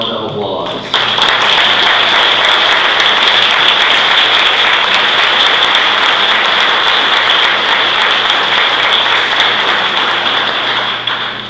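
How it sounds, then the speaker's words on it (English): An audience at a building dedication and hall of fame induction applauds alumni committee members, a dense, loud, continuous wash of clapping that starts abruptly and holds steady without a break. "Let's give them a round of applause."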